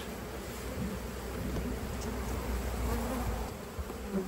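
A dense, continuous buzz of many honeybees hangs close and loud around a small clustered swarm, with no voices.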